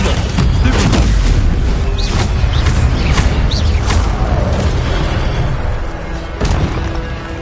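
Fire and stunning spell blasts in Hogwarts Legacy, a dense, loud barrage of booming impacts and crackling bursts layered over one another with no break, with game music beneath.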